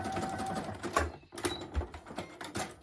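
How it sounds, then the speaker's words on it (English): A sewing machine stitches across a T-shirt shoulder seam, making a quiet, rapid mechanical clatter with a few brief pauses over about three seconds. "So now I'm going to put this back under the machine and just sew off the end"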